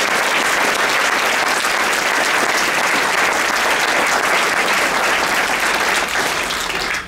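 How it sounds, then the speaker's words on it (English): A room full of people at a panel discussion forum claps steadily and loudly for several seconds, a dense unbroken wash of applause. "Can we give our whole panel a round of applause?"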